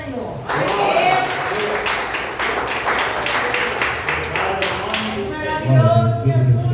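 A congregation claps during a church service, a dense run of rhythmic hand claps mixed with voices. Near the end, speech and singing-like tones take over.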